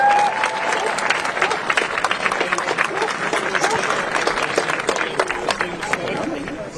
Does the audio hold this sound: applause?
yes